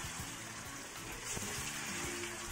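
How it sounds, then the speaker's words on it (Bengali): Chowmein pakoras slid into hot oil, giving a steady bubbling sizzle with a few splashy pops and low clunks as pieces drop in, close and continuous, with no talking. "মা চাউমিনের পকোড়াগুলোকে এই শেপে বানিয়ে রেখে দিয়েছিল, তো তেলের মধ্যে ছেড়ে দিচ্ছে"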